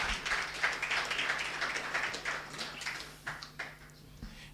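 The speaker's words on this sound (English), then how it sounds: "Round of applause for her." An audience at an economic roundtable applauds a panelist, a steady, fairly close patter of many hands that gradually thins into a few scattered claps.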